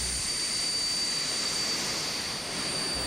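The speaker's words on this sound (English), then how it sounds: "We started our engines and taxied out to the active runway." Military jet aircraft engines whine and roar steadily while taxiing out to the active runway, a loud continuous drone with a high whistle on top and no talk.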